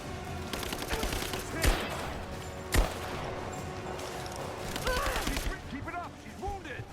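Gunfire rings out in a Rise of the Tomb Raider battle: two sharp, loud shots stand out amid a continuous rattle of rapid fire, with enemy soldiers shouting throughout.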